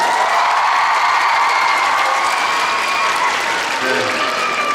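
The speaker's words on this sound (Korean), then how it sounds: "박수 한번 주십시오" Sustained audience applause mixed with cheering fills a Kyung Hee University hall during a stage greeting for the film Secretly, Greatly, welcoming the actors. The clapping is loud, dense and steady throughout.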